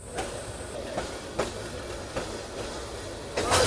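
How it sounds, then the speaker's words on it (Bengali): Jayantika Express passenger train running on rails, heard from aboard as a steady rumble with regular clacks of the wheels over rail joints. "ট্রেন আবার চলা শুরু করলে আমরাও উঠে গেলাম।"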